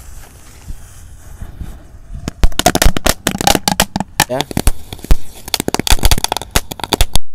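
A whole box of black snake firecrackers burns inside a bottle, starting with a low hiss and then breaking into loud, dense, irregular crackling and popping bursts at close range, while a voice speaks briefly at the start.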